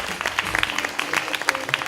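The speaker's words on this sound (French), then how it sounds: "Sous vos applaudissements, tout à fait." Applause from an audience at an evening event, a brisk burst of many hands clapping with a bright, dense patter, close and moderately loud, with a voice briefly heard beneath it.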